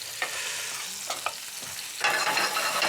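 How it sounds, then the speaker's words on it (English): Chicken gizzard sautés in a pan with a continuous hiss, a few short stirring scrapes, and a louder burst of sizzling toward the end. "First, the gizzard for a minute or so."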